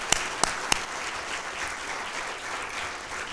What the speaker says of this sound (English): If we get a round of applause for that